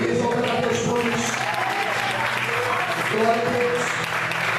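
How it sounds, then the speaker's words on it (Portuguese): A church congregation applauds together at a worship service, a steady, dense wash of clapping that fills the room throughout, with voices and harmonic tones threading underneath. "Você pode aplaudir ao Senhor nessa noite."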